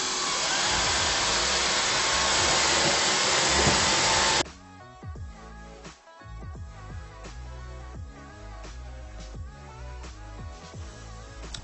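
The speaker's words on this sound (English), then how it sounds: "Let me show you guys whether or not the vacuum works or not." A TOPPIN cordless stick vacuum cleaner runs loud and close, a dense steady roar for several seconds, then cuts off into quieter clattering and rustling as paper scraps are handled.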